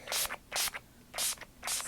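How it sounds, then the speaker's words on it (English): Chalkboard spray hisses onto paper in four short, close bursts, each a sharp airy spray of about a quarter second separated by brief pauses. "spray it on, and already you should see that resist popping through there"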